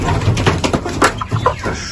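Ducklings cheep and peep in short, irregular bursts nearby, a busy chatter of young fowl.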